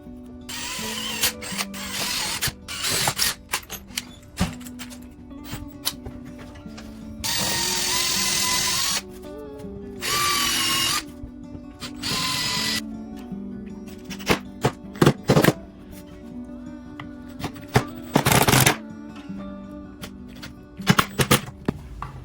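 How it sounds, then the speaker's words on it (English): Several short bursts of a whirring power drill boring holes for a bathroom medicine cabinet, close and loud, separated by clicks, clatter and handling noises. "then I'll drill the holes through here and give it a shot"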